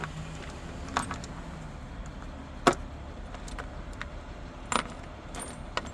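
Loose metal rocker arms, many of them broken, clink and rattle as they are handled beside an opened engine, with a few sharp jangling knocks standing out over a low steady background hum.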